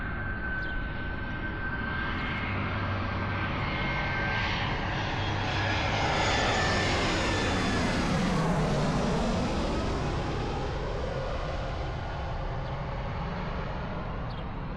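A low-flying airliner roars overhead beside the Barcelona airport cycle path, its loud engine rumble swelling to a peak mid-pass and then fading, heard from close by over continuous wind noise.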